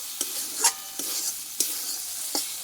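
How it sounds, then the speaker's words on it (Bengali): Masala for an okra dish sizzles in a pan while a spoon scrapes and stirs it, giving a soft frying hiss broken by four or five sharp scraping strokes, close by with no talking. "ভালোভাবে কষিয়ে নিয়েছি"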